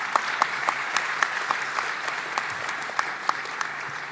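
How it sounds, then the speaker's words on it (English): An audience at an Infosys event gives a sustained round of applause, with a dense roomful of hands and sharper individual claps popping out near the front. "So huge round of applause."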